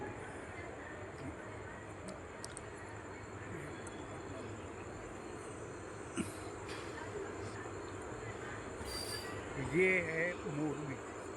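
The Bhuj–Rajkot summer special train pulls out of Morbi station, heard from on board as a steady rolling rumble, with a brief metallic wheel squeal near the end and faint voices underneath.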